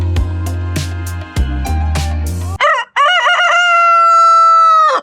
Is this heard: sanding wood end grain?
no